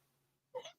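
A single short sneeze, sharp and fairly close, breaking a quiet pause after a faint low hum.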